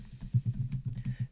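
Someone types on a computer keyboard, entering text into a spreadsheet cell. The keys click in a quick, fairly even run of about ten soft taps, close by and quiet, with no talking.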